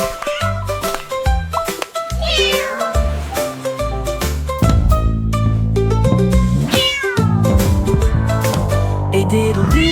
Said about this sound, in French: Le chat miaula bruyamment